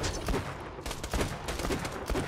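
Rapid revolver shots in the Borderlands 2 video game, a series of sharp, fairly quiet cracks in an uneven rhythm with game sound effects underneath.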